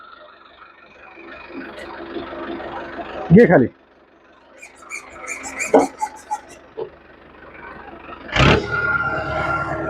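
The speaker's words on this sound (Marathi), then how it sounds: "तर आता आपण रोटाविटर चालू करून ह्याचं डेमॉन्स्ट्रेशन बघूयात." A rotavator mounted on a Mahindra tractor runs through tall weeds on a farm, its engine droning steadily with loud bursts and thumps of the blades churning vegetation, while a person speaks briefly nearby.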